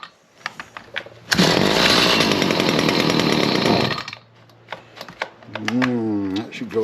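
A small choked gas engine on outdoor power equipment catches and roars loudly up close for about three seconds before cutting out, with clicks and a person talking before and after.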